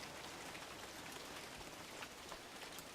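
Steady rain falls with a soft, even hiss, dotted with faint individual drops, and no voice over it.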